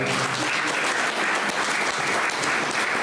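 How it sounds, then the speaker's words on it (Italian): Sustained audience applause at a Sardinian poetry competition in Ardara, honouring a competing poet; dense, steady clapping from a full hall, loud and continuous throughout with no talk over it. "Un applauso a Paolo."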